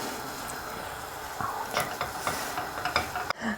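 Parasol mushrooms frying in oil in a pan give a soft, steady sizzle close by, with a few scraping stirs and light clinks toward the end.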